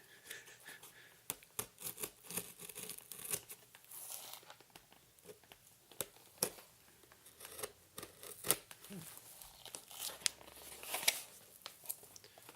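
Secure plastic packaging around a new microphone being torn and crinkled open, close and quiet, with a scattered run of sharp crackles, snips and rustling bursts and no talking.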